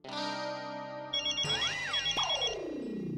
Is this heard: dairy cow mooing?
no